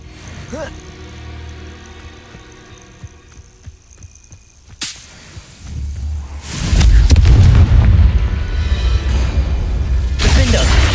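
Confringo blasting-curse explosions and other spell impacts in Hogwarts Legacy duel combat: a sharp whip-like crack midway, then loud sustained booming blasts and crashes, with a voice casting spells over the clamor.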